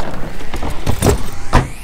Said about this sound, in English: It's the sound of suitcase wheels rolling along.